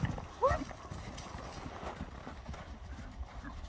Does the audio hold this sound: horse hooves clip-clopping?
yes